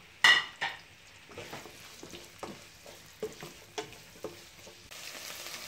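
Onions frying in oil for a dhaba-style mixed vegetable curry, a soft continuous sizzle under a sharp opening clang and regular spatula scrapes and taps against the pan.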